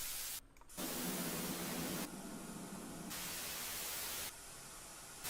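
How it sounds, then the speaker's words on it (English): Classic white noise from a Moog synthesizer hisses steadily, loud and alone, its brightness switching back and forth between fuller and thinner filtered tones in several blocks after a brief dip at the start. "What the Moog has is classic white noise"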